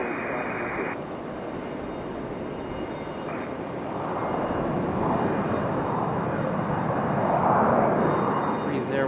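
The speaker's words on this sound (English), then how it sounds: "Copa making their way out after whatever happened to them on startup there" A Copa Airlines airliner taxiing out after pushback at Raleigh-Durham airport gives a steady, moderate engine rumble and whine that swells slightly, with someone talking over it.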